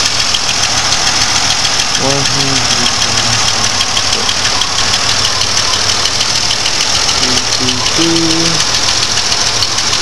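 A GM 3.4L engine idles with a steady, loud drone and a fast, even ticking running through it, close by, with brief voices talking over it at moments.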